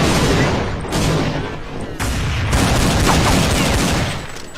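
Dense, continuous gunfire from a video game fills the clip, with loud overlapping shots and booms blending into a sustained roar.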